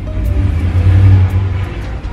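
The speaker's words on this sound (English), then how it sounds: "Oh, that's the UPS truck." A UPS delivery truck rolls past outside, its engine a loud low rumble that swells toward the middle and eases off, close and alone with no talking.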